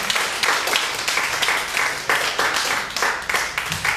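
A stand-up comedy audience at The Icehouse applauds comedian Austin Rausch, a dense, loud wash of many hands clapping steadily with a few cheers throughout, no talking.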